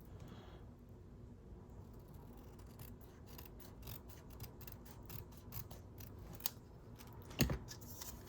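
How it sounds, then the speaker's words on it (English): Scissors trim paper frames for a journal with faint, close snips and rasping cuts, sparse at first and then more frequent, ending with a louder snip. "I saw these little frames and actually need to finish trimming this out."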